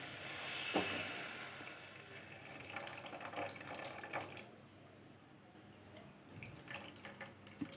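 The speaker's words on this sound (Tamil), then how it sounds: "ஒரு நெல்லிக்காய் சைஸ் அளவு புளியை நான் தண்ணியில் ஊற வச்சு கரைச்சி வச்சுருக்கேங்க, அதை இதில் ஊற்றிக்கலாம்" Tamarind water poured into coconut milk rasam in a kitchen pot, a light liquid splash and dribbling pour with a few drips, moderately near and fairly quiet, with no talk.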